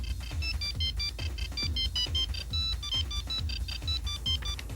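A cell phone rings with a repeating electronic ringtone, a rapid, rhythmic pattern of bright beeping tones over a pulsing low beat, steady and fairly close, with no talk.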